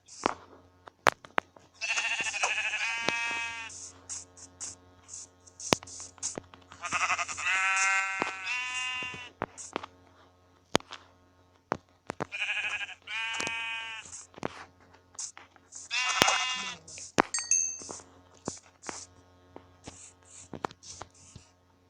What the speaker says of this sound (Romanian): Și uite și oi.